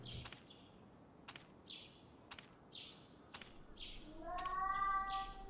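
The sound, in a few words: scary cat sound in a spooky video game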